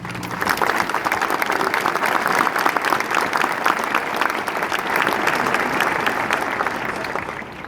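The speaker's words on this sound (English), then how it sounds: "give them a round of applause" Sustained applause from a sizable crowd at an athlete of the year awards ceremony, steady and full for the whole stretch with no talking.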